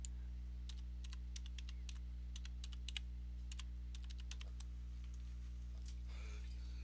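Steady bursts of typing on a computer keyboard, quick light key clicks in uneven runs over a constant low electrical hum, with no talking.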